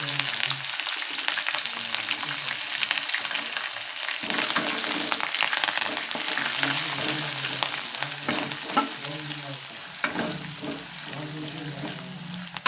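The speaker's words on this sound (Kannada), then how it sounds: "ಉಳ್ಳಾಗಡ್ಡಿ ಹಿಂಗೆ ಫ್ರೈ ಆಗ್ಬೇಕು ಎಣ್ಣೆಗೆ" Onions fry in oil for upma, a close, steady sizzle with intermittent scraping and stirring against the pan, continuing throughout with faint voices in the background.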